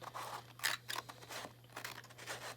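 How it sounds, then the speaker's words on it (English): Scissors snip through a sheet of paper being cut along a drawn line for a square, giving several soft, close crunching cuts in a slow, uneven rhythm over a low steady hum. "I'm trying to make sure that the tip of my scissors is closing along that line"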